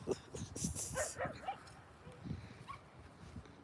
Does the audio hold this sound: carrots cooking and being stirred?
no